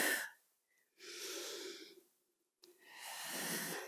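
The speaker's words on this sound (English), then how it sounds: "Big deep breaths. Remember to breathe." Slow, deep breaths during a yoga stretch: a long inhale and exhale, a pause, then another drawn-out breath, soft and close with no talking.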